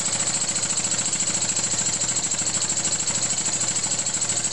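A small K1 compressed-air engine with crankshaft, flywheel and valve mechanism runs at about 20 PSI, producing a fast, even, rapid chugging pulse with a steady hiss of air, close up and alone.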